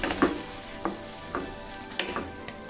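Chicken with ridge gourd sizzling and frying in a pan as a little water is added, a steady close hiss broken by several sharp crackling spits, no voices.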